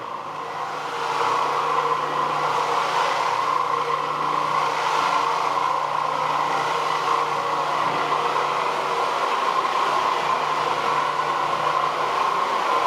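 An Oreck Orbiter floor machine scrubs a rental-property floor with a steady, continuous motor hum and broadband whir, holding even in level from start to finish with no talk over it.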